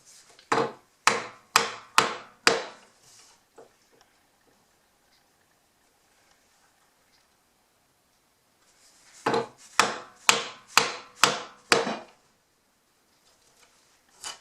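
A mallet strikes a chisel while hand cutting a mortise in a wooden face frame for a root vegetable cabinet: two bursts of about five sharp, close knocks in steady rhythm, separated by a quiet pause.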